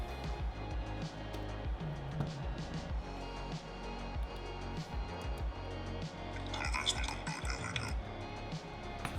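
A voice pitched down eight semitones with a DaVinci Resolve pitch effect, deep and murky, droning continuously for several seconds at low volume with a bassy, muffled character.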